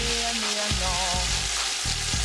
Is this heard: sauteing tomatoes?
yes